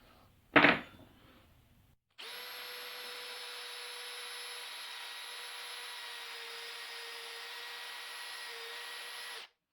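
A drill boring pocket holes through timber with a pocket-hole jig, during a build of a stand for a Titan planer thicknesser, runs as a steady, loud, unbroken whine for about seven seconds after a short thump.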